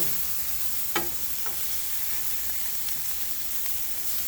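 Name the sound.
asparagus flipped and sizzling on a Blackstone griddle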